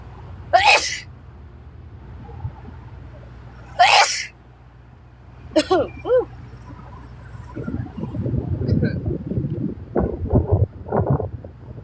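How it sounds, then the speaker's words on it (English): Someone sneezes loudly and close up, twice in sharp bursts and then a third more broken time, followed by rustling, wind-like noise. "I'm gonna sneeze."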